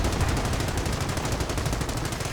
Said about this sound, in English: at least one Volksgrenadier is firing away